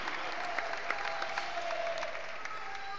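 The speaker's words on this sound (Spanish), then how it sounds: "Dale un aplauso grande al Dios Todopoderoso." A church congregation applauds steadily during a Spanish-language sermon, a dense, continuous wash of clapping from a crowd heard at moderate distance without speech on top.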